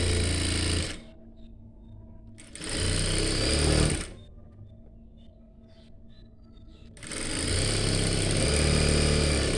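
A sewing machine runs in bursts while joining inskirt pieces, its rapid whirring stitch starting and stopping with quiet pauses between runs.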